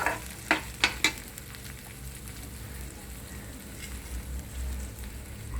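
Washed dill greens drop into a hot pan with a few sharp clattering hits, then settle into a soft, low frying sizzle with faint scraping of stirring, quiet and close.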